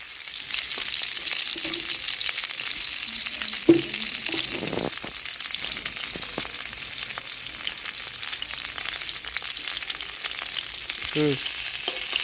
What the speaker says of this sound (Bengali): আমাদের কপি ভাজা হয়ে গেছে, কপিগুলো আমরা তুলে নেব।